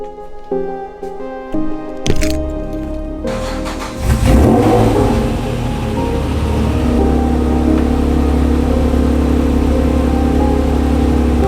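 Honda NSX sports car engine revving loudly, rising from a few brief bursts into a sustained, steady roar that fills the rest of the recording.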